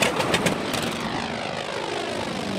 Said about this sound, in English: I got to fly in the 1955 North American T-28.